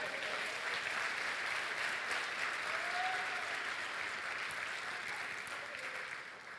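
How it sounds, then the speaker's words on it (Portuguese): A church audience at a Portuguese-language sermon breaks into steady applause, a dense, even roar of clapping heard at moderate distance that continues throughout before easing slightly at the end. "Você pode aplaudir Ele?"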